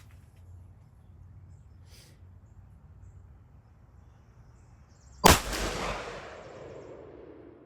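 A single sharp .458 SOCOM rifle shot cracks out loud and near at an outdoor range, followed by a long decaying echo rolling away; quiet background before it.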